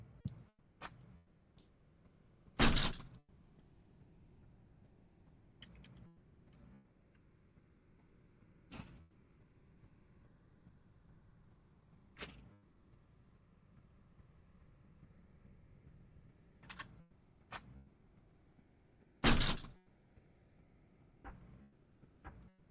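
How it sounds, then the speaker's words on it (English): An intruder trying to force open the back door of a home: scattered thuds, clicks and rattles spread over about twenty seconds, two of them loud sharp bangs, against a quiet background with no talking. "He tried to break into his home for close to 10 minutes."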